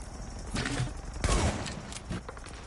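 Sniper rifle fire in The Division, played on PS5: loud, sharp shots with booming low-end tails, two main blasts about three-quarters of a second apart followed by fainter echoing reports.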